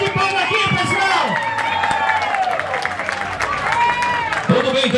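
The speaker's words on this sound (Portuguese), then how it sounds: "Uma salva de palmas aqui, pessoal!" Crowd clapping at a municipal handover of new houses in a rural village, mixed with cheers and chatter while a loud, near voice talks over the applause throughout.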